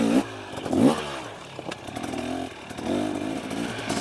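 A KTM 300XC two-stroke dirt bike engine, 2023 model with TBI, revs hard in bursts on a trail, loud and close with a rough, buzzing note rising and falling over several seconds.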